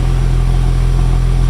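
Car exhaust heard from the exhaust microphone position in the Krotos Studio Pro vehicle engine, a steady, loud, close rumbling drone with a constant low hum and no speech.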